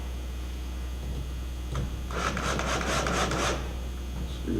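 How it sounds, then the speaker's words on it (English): Screw driven by hand into a pre-drilled wall panel: a short burst of gritty rasping turns, close and moderately loud, after a single faint tap, against a quiet room. "Screw that one in."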